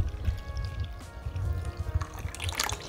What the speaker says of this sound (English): now I'm going to add the wet ingredients into the dry ingredients